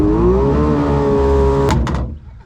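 A welded jet jon boat motor runs roughly with a steady droning whine for about two seconds, then sputters through a few sharp bangs and cuts out, leaving quiet.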